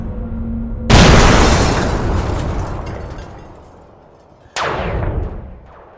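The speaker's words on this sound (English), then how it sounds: "The explosion got worse." A loud, sudden explosion erupts and rumbles away, followed a few seconds later by a second sharp blast that also fades.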